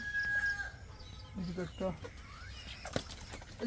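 Chickens in a farm coop clucking and calling at close range, with brief wing flaps and a crowing-like call, under ongoing talk and a fan hum.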